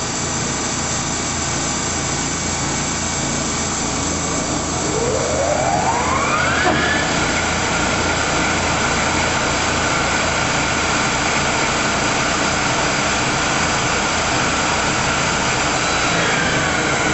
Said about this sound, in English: turbo shift, unarc, engine lathe. Right now it's at 1750 RPM.